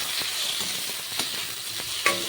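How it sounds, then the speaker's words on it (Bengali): Tomato and capsicum sizzle and crackle in a hot pan, a close steady frying hiss with a few scraping stirs. "টমেটোটাকেও হালকা করে একটু ভেজে নেব।"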